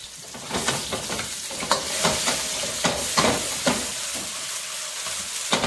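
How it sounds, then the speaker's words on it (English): Egg fried rice is tossed in a hot wok with a loud, continuous sizzle and repeated sharp metallic scrapes and clatters, arriving in a quick irregular rhythm close up, with no talking. "Nice wok toss going on."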